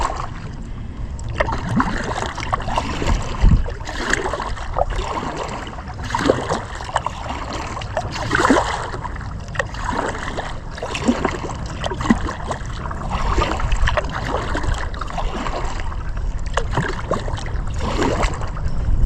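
A paddle dips and strokes through shallow water on Pheasant Branch Creek, Middleton, Wisconsin, in early spring, with steady gurgling and trickling flow around a small boat.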